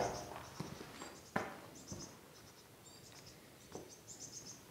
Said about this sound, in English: There's a bird's nest in their fan, and they're all chirping.